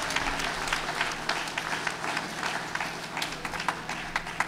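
Audience applause for an award recipient at a mayor's heritage month celebration, a steady wash of clapping with a crowd murmur underneath, moderately distant and continuous throughout.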